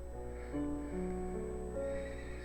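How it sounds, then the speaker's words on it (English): A horse in the Minecraft video game neighs with a drawn-out, wavering whinny that steps up and down in pitch, heard alone over a steady low game hum. "I'll end up having to tame that horse later since it's already in here"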